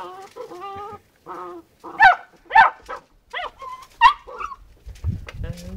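Dogs at a kennel give several sharp, close barks and yelps in quick bursts, with gaps between them and a low rumble near the end.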